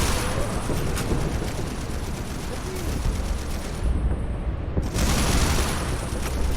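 Gunfire in the video game Strike Force 3 forms a dense, continuous wash of rapid shots and rumbling blasts. It stays loud and unbroken throughout, with a brief dip in the brightest crackle near the end.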